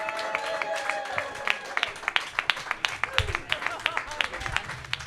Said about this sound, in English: Start making noise for Devin Bramble.